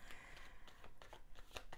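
Tarot cards shuffled by hand during a twin flame reading, giving a run of soft, quiet riffling and crisp flicks that repeat unevenly, with no voice over them.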